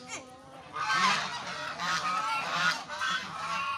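Geese honking repeatedly at close range, loud overlapping harsh calls from a flock, with a voice briefly heard at the start.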